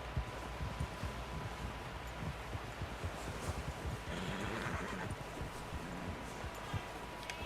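Horse neighing and clip-clopping in Red Dead Redemption 2 on a snowy valley trail, hooves plodding steadily under a constant windy wash, with a whinny standing out near the middle.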